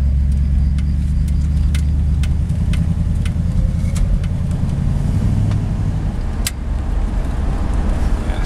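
A 1963 Buick Wildcat drives along, its steady low engine rumble and road roar loud and continuous from start to finish, with faint ticks and rattles overhead.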